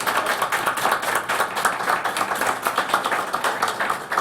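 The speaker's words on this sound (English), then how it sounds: "Can we give everyone a round of applause" Steady applause from an audience at a county board of education business meeting, many hands clapping at a brisk, even rate, moderately loud and continuous with no talking over it.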